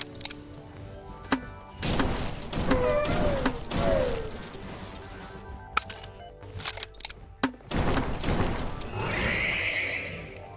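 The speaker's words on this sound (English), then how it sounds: "Got some horses to fight" Horses neighing in the video game Terraria, several loud whinnies spread across the stretch among snorts, hoof-like knocks and other game effects, no talk over them.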